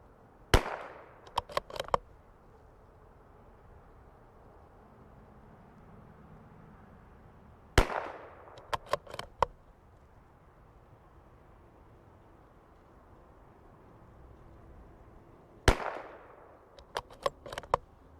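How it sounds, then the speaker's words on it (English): A CZ 457 .22LR precision rifle firing ELEY match ammunition at the range, three groups of sharp cracks, each a single loud shot followed by a few fainter clicks of bolt cycling, with quiet gaps between. "now let's shoot this ELEY match and see what we get"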